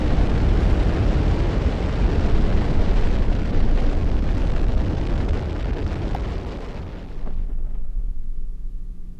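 Rocket launch in the factory-building game Automation Empire, a loud sustained roaring rumble of exhaust that holds steady for several seconds before cutting away into a quieter low hum.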